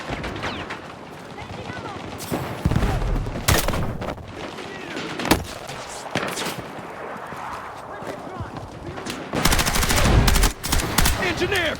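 Battlefield 6 combat brings loud, rapid machine-gun bursts and single gunshots with heavy booms, dense and close throughout, while soldiers' voices shout over the firefight.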